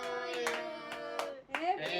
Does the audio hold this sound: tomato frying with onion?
no